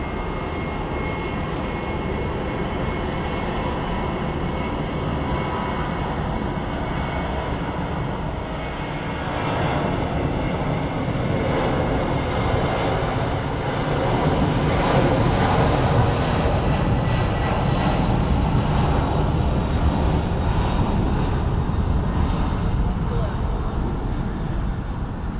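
Airliners taxi at Phoenix Sky Harbor International Airport, a broad, continuous jet engine roar that swells gradually louder partway through and stays steady, heard from some distance.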